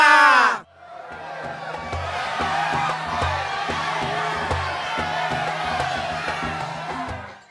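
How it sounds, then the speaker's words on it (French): A crowd cheers and acclaims Jesus as he arrives in the city, a loud, continuous mass of shouting and whooping voices that sets in after a brief opening sound and stays dense throughout. "À son arrivée, Jésus est acclamé par la foule."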